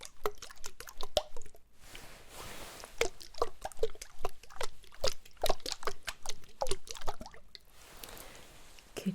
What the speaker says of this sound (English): Water, yes, good.